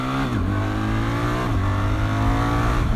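A BMW R 1300 GS Trophy motorcycle engine rises and falls through gear changes while riding, a loud, close, continuous drone with pitch steps as it shifts.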